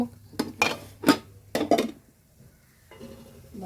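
Metal lid on a cooking pot of tomatoes for chicken roast, giving a few sharp clanks and clinks in quick succession, close and fairly loud, followed by quieter kitchen shuffling.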